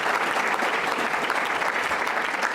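An audience at a public forum on social services in Illinois gives a round of applause for Marka Bristow, president and CEO of Access Living, dense, even and loud clapping sustained throughout with no voices.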